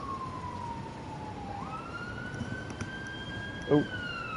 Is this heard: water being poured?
no